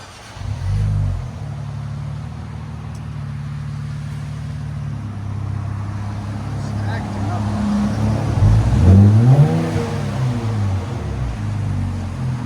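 A 2024 Nissan Z with a 3.0L twin-turbo V6 and AWE track cat-back exhaust idles with a low rumble, then revs sharply once and settles, heard up close with people talking nearby.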